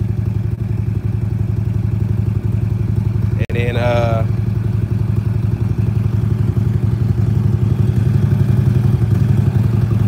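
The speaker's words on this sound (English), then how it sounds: "the heat cycle is just letting the engine run, getting the motor oil hot" A Harley-Davidson Road King motorcycle engine idles steadily through its heat cycle before an oil change, a loud, even rumble with a constant pulse that runs the whole time, with a brief spoken phrase partway through.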